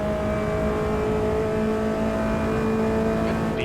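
Formula Inter race car in Automobilista 2 holding a steady, loud engine drone with sustained harmonic tones at constant revs, close and continuous throughout, no talking.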